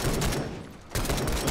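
Rifle fire in a WW1 shooter game, dense loud bursts of gunshots that briefly thin out then resume sharply, close and unbroken apart from the short lull.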